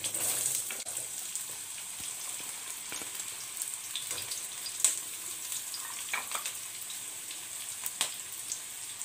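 Cubed carrots fry in half a cup of ghee in a pan, making a continuous bright sizzle with scattered pops and occasional stirring clatters, close and alone without voices.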